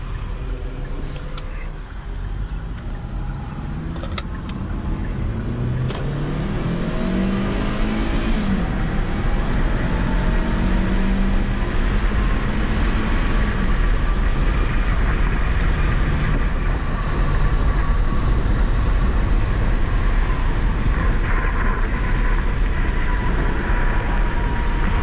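A 2015 Hyundai Sonata SE, in sport mode with manual gear selection, accelerates through the gears. Heard from inside the cabin, the engine drone rises steadily in pitch under continuous loud road noise.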